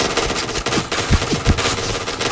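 F-2000 assault rifle fired in the shooter game Point Blank, a quick string of loud, close shots with punchy low-end thumps over a steady game backdrop, no talking.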